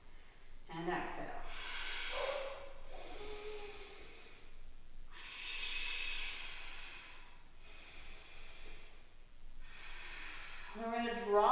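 Slow, audible yoga exhales during a hips and hamstrings flow, each a long breathy rush of air lasting a second or two, repeating at a calm pace close to the microphone, with brief spoken instructions at the start and end.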